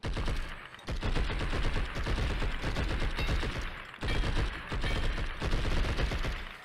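Sustained gunfire from guns in the video game Blood and Bacon: dense, rapid volleys of shots run almost without pause, loud and close, with only a couple of brief breaks in the barrage.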